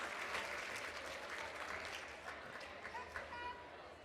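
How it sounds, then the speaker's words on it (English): Applause from a large gala audience of about 850 people, a broad, steady wash of clapping with scattered cheers and voices underneath, heard somewhat distantly. "Let's give them a round of applause."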